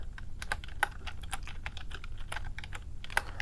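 HTML code is typed on a computer keyboard, a close, steady patter of key clicks with occasional louder taps, running continuously without speech over a low background hum.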